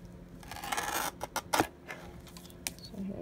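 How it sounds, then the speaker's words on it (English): Scissors cut down a clear plastic card, giving a close, sharp snip and rasping scrape followed by a few shorter crisp clicks, heard alone without talk. "I'm just going to cut it down to 4."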